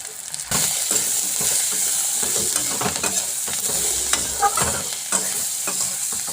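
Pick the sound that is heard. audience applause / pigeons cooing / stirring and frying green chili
stirring and frying green chili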